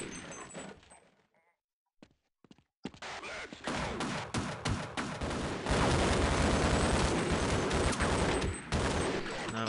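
A gun fires in the video game Half-Life, beginning with a few scattered shots after a near silence, then building into a loud, sustained barrage of rapid bursts.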